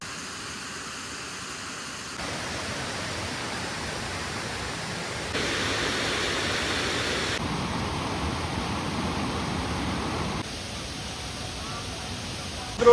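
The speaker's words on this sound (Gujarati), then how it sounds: "બાજુમાં ઘણું બધું પાણી પડે છે" The Gupteshwar waterfall at Pavagadh pours with a broad, steady roar of falling water heard from nearby. Its loudness shifts in abrupt steps from one stretch to the next.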